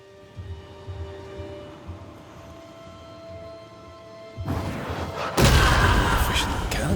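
In a video game, cannon powder blows up and knocks down an obstacle, a loud booming blast that swells into sustained rumbling debris after quieter ambient sounds.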